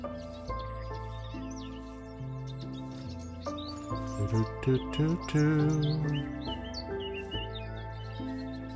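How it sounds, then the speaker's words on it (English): Chirping birds in a modded Minecraft-style game, quick tweets scattered over a layer of soft background music, moderately loud throughout with a busier stretch in the middle. "Birds seem really loud still to me. I don't know if they are to you, but they are really loud in my ears."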